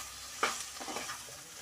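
Turmeric, coriander and red chili powder are stirred into eggplant and potato frying in a clay pot, with a soft scraping stir, a gentle sizzle and a sharp knock of the spoon near the start, close and quiet.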